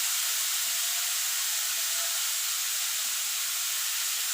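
Mixed vegetables, including chopped beans, sizzle steadily in a hot pan for veg dal, a continuous close hiss of frying with no talk.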